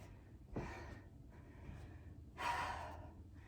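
Heavy, effortful breathing during a plyometric HIIT leg workout, with two loud gasping exhales about two seconds apart and ragged, quieter panting in between, close to the mic with no talk.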